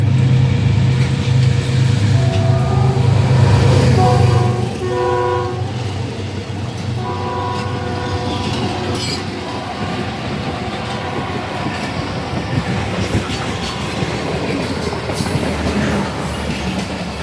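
A train races through Badamibagh station at high speed, a loud sustained roar with repeated horn blasts early on, followed by the continuous rush and clatter of passing cars.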